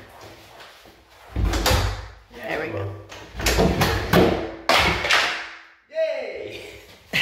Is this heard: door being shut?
yes